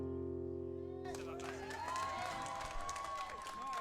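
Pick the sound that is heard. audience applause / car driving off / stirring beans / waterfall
audience applause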